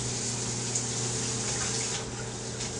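Shower water running steadily while someone rinses off, a continuous close hiss of spray with a faint low hum, no voices over it.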